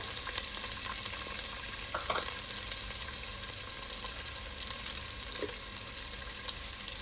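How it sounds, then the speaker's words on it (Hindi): Onions frying in oil in a pan for a mutton and capsicum dish, a continuous soft sizzle with a few faint stirring clicks, no voices. "इसको तब तक फ्राई करेंगे जब तक ये थोड़ा सा नरम ना हो जाए"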